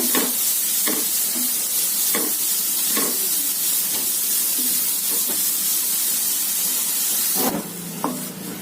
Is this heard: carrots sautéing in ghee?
yes